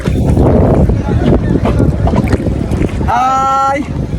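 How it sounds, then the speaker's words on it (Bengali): Wind rushes over open haor water as a boat sets out, a steady loud rumble with buffeting, a brief motor-like tonal whine near the end and voices in the background. "নৌকায় উঠছি"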